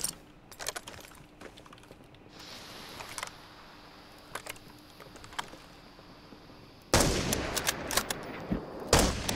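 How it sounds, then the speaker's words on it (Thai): Gunfire in the game Arena Breakout: Infinite, shot through smoke: sharp, close single shots and short bursts break up a quiet stretch, then a loud, dense volley of rapid shots cuts in near the end. "ผมยิงทะลุควันใส่แม่งเลย"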